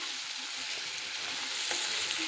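Mustard and cumin tempering seeds fry in hot oil for a Telugu mint rice, giving a close, steady, dense sizzle and crackle with no voices.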